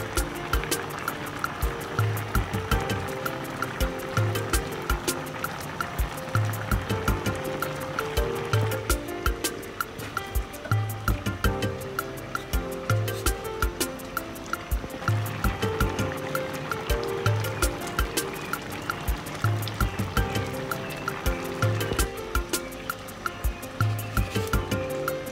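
A pot of white, kidney and honey beans seasoned with hot Cameroon pepper boils on the stove, giving a steady, dense bubbling and churning that stays at an even, fairly loud level throughout with no voices.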